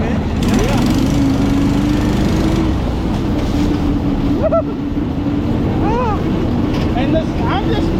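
A homemade buggy's 23 hp V-twin engine with a governor drones steadily and loudly up close, a constant mower-like running note behind faint voices and wind.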